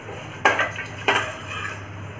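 Fenugreek seeds are stirred in a pan as mustard seeds go in: two sharp metallic clinks of a spoon against the pan, about half a second apart, then softer scraping and rustling.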